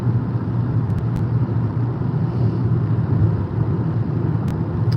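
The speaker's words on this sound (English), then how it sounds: "The traffic's getting more intense. It's getting heavier." Heavy road traffic heard from inside a moving car on a road trip, a steady low rumble of engine and tyre noise with a few faint ticks.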